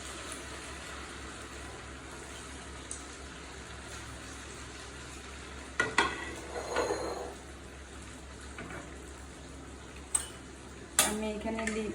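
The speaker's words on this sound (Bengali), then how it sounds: "আমি এখন পিঠাগুলা এক এক করে দিয়ে দিব কড়াইতে" Date-molasses pitha frying in oil in a wok, a steady low sizzle with occasional sharp clinks and scrapes of stirring utensils, no voices.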